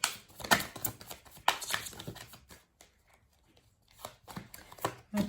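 Tarot cards being shuffled and drawn by hand: bursts of papery riffling and slapping, loud then trailing off into a near-silent pause before a few more soft card flicks and taps.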